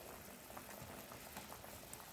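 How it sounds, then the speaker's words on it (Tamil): A pot of prawn kurma boils steadily with quiet, continuous bubbling and popping, soft and close, with no voices. "நல்லா கொதிக்கட்டும் நம்மளுடைய குருமா."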